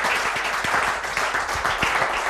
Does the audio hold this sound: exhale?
no